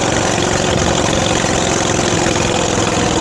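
A Yamaha SR500 motorcycle engine idles steadily up close, a loud, constant rumble with no talk.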